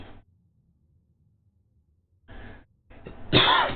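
A person coughing close to the microphone, with a short cough, another, then a harsher, louder cough at the end, separated by near silence.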